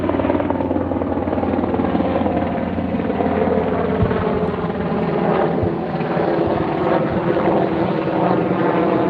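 A helicopter flies overhead with a loud, steady rotor and engine roar throughout, and no one talks.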